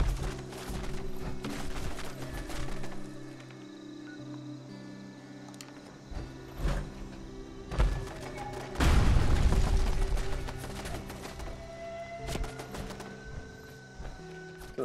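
Enemy gunfire in Fallout 76 crackles as scattered shots and booms over steady game music and ambience, with a heavier burst of fire partway through.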